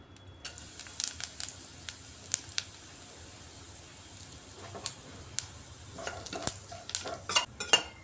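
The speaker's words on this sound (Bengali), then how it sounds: "ফোড়নে দিয়ে দিচ্ছি এখানে দারচিনি, এলাচি, লং আর সামান্য জিরে। কারকুল ভাজার তেলের মধ্যেই দিয়ে দিচ্ছি।" Whole cinnamon, cardamom, cloves and cumin seeds sizzle in hot frying oil, a soft steady crackle with scattered sharp pops and clinks of stirring, quiet and close, with no talking.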